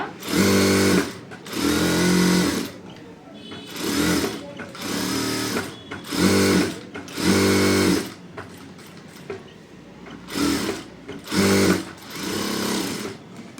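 A sewing machine stitches a prince-cut blouse with a star neck in repeated rhythmic bursts, about nine runs of fairly loud, close whirring separated by short pauses.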